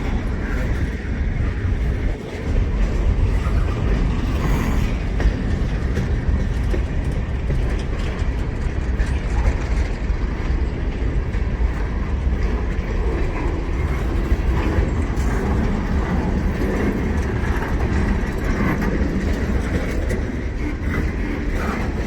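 A long freight train loaded with 48-foot containers rolls steadily past near a yard office, a continuous loud rumble of wagons that never lets up.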